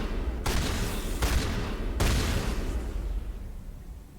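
A shotgun fires in a sci-fi shooter game: three loud, sharp blasts spaced under a second apart, each trailing off into a fading rumble.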